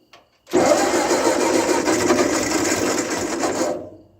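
A 1941 Ford 9N tractor engine cranks over in one long, steady, rapid churning run of about three seconds, loud and close, then winds down without catching.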